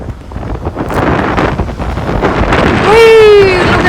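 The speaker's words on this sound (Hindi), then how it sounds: "Look at the water splash." Sea waves surge and splash against the rocky cliffs at Devil's Tear on Nusa Lembongan, a loud, close, rushing wash mixed with gusty wind buffeting the mic. A voice cries out near the end.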